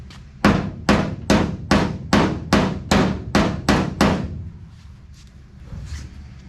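A hammer smacks a 1969 Dodge Charger body panel into place, with about nine loud, evenly spaced metallic blows close by, then faint tapping.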